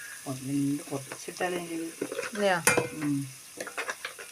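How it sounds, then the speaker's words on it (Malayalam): Snake gourd and prawns stir-fried with chilli powder in a pan, giving a steady close sizzle and scraping stir under a voice talking over most of the cooking. "ഒന്ന് മുളക് പൊടി ഇട്ടിട്ട് നല്ലോണം ഇളക്കിയെടുക്കും"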